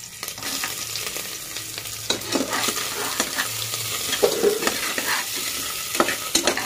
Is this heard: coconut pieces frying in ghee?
yes